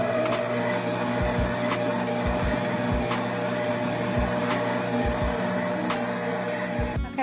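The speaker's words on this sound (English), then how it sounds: "now we're going to cream our butter and sugar for 3 to 5 minutes" An electric stand mixer creams butter and sugar on medium speed, a steady close whirring drone with a rhythmic low knocking that repeats throughout.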